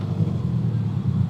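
A built Subaru STI pulls away, its engine giving a steady low rumble at moderate distance, with no voices over it.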